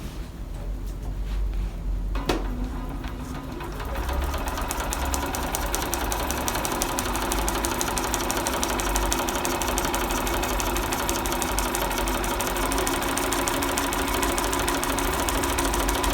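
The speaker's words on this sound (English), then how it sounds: "I've swapped back to my B480 because it's a larger machine, giving me more room to work on. So I'm just going to sew down." A Bernina B480 sewing machine with a number 52 foot stitches rows on foundation paper piecing, starting as a steady, close mechanical whirr after a quieter stretch and running continuously to the end with no talking.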